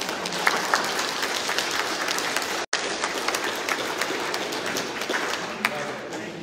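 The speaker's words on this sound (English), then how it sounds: "think that needs a round of applause" A church congregation gives a round of applause during Sunday worship, with sustained, even clapping from a large group that fills the room and has a brief dropout partway through.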